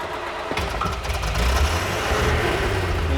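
An old Bentley MK VI engine cranks and catches, then settles into a loud, close, rumbling idle with a low throaty tone and no talk over it.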